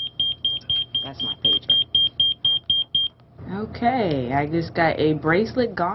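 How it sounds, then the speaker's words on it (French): A pager receiving a message emits a rapid train of high electronic beeps for about three seconds, then stops as a person begins speaking. "Voilà un message sur mon bip."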